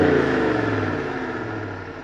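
A 2026 Ram 1500 Warlock with a HEMI V8 revs in neutral while parked, a loud, close, deep engine roar that holds high and then slowly eases down.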